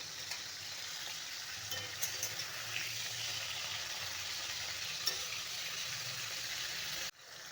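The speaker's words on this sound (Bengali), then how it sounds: "মাছগুলোকে বেশি কড়া ভাজবো না, একদম হালকা ভেজে তুলে নিচ্ছি।" Hilsa fish shallow-frying gently in oil in a wok, a steady soft sizzle with faint crackles throughout, cutting off abruptly near the end.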